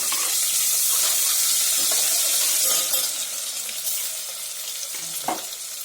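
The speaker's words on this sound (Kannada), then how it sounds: "ಇಲ್ಲಿ ನಾನು ಶುಂಠಿ ಬೆಳ್ಳುಳ್ಳಿ ಪೇಸ್ಟ್ ಮಾಡಿ ಇಟ್ಕೊಂಡಿ ಇವಾಗ ಇದ್ರ ಹಾಕ್ತಾ ಇದ್ದೆ." Ginger garlic paste fries in a pan for a brinjal curry, a strong sizzling hiss with stirring scrapes that settles slightly quieter halfway through, with a sharp clink near the end.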